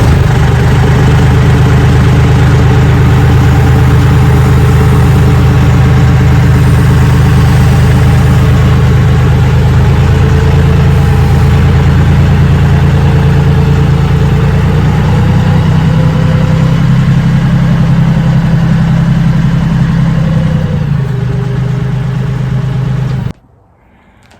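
A tractor with a post hole digger auger attached idles steadily, a loud, close, even engine drone with a low throb that holds for over twenty seconds before cutting off abruptly near the end; no talk.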